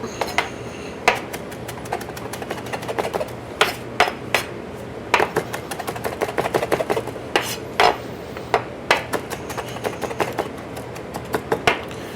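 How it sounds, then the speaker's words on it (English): A knife chops parsley on a cutting board in irregular sharp taps, some louder than others, with no talk over them. "Let me chop these parsley's up."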